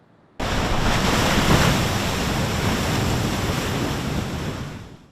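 Powerful ocean waves and surf on the Central Coast during a large swell, a loud roaring wash that bursts in abruptly and holds steady with wind buffeting the microphone, then slowly eases toward the end.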